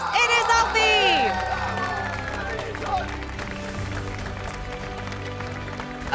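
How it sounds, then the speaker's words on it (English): Crowd at a Pokémon regional championship in Frankfurt cheers and applauds for the second-place finisher, a broad sustained wash of clapping and shouts under amplified speech and music. "One more cheer for our 2nd place. It is Alfie!"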